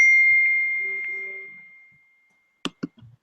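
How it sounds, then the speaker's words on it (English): A phone bumps against a microphone with two sharp, close knocks in quick succession, then fainter rattling after a fading electronic ring tone. "is your freaking phone right up against the microphone?"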